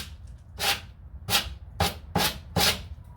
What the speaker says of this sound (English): I like to sand it.